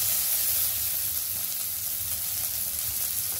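Chopped tomato hitting hot oil in a pan while cooking a Bengali fish curry, giving a steady, loud, close sizzle with a constant frying hiss and faint stirring underneath, no voices.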